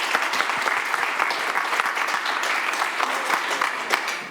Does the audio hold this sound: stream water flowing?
no